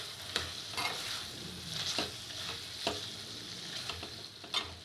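Chicken and cucumber curry with coriander and mint is stirred in a sizzling pan, with repeated scraping strokes of the spoon over a steady frying hiss.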